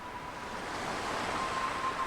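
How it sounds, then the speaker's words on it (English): Ocean waves wash steadily at a lighthouse in the video game Without a Dawn, a continuous, fairly loud roar of surf with gentle swells and no voices. "The sound of the waves has a unique quality to it"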